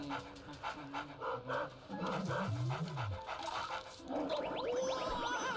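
Fido the puppy panting in Luigi's Mansion 3DS, a steady rapid huffing with whimpering, close and clear, with a jingly game tune rising near the end.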